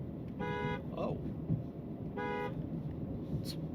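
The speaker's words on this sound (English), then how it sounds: "what if someone is driving recklessly on the road and you need to honk at them? What are they going to hear out of the DB12?" A 2026 Aston Martin DB12 S sounds its horn in two short harsh blasts, each about half a second, over low road and cabin rumble, with a brief sound between them.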